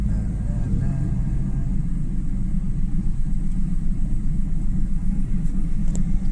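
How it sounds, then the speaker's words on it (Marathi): Continuous rumble of road traffic at a busy main intersection in Karjat, India, engines idling and passing vehicles blending into a loud, dense drone with faint horns. "नेहमी कॉमन ट्रॅफिक आहे, हे असतेच इथे"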